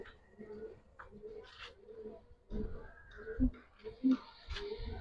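Pigeons kept for sale, including giribaz birds, coo softly in low repeated throaty notes amid quiet handling noises and faint voices nearby.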